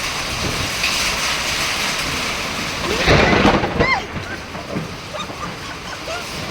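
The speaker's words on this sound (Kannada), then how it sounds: "ಮಳೆ ಸಿಕ್ಕಾಪಟ್ಟೆ ಜೋರು." Heavy hailstorm rain pours down in a dense, constant roar, broken midway by a loud, close clap and rumble of thunder, with faint voices now and then.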